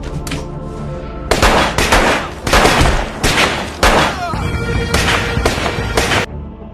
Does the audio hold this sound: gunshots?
yes